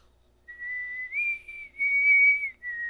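A person whistles a clear, sustained melodic tune at close range, the pitch rising and falling over a few held notes with short breaks, no talking over it.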